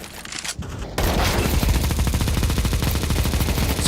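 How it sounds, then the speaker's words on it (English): Loud, dense automatic gunfire, likely from a light machine gun, erupts after a quieter opening and then rattles continuously in a Counter-Strike 2 grand final match at IEM Dallas 2024. "Suppressing fire from Elige"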